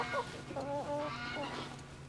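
Geese on a farm honking in a cluster of short, nasal calls, fairly close and moderately loud over a low background hum, with no talking.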